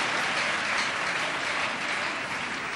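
A church congregation giving a clap offering, dense continuous applause from many hands that fills the room at a steady level throughout, with no voices standing out.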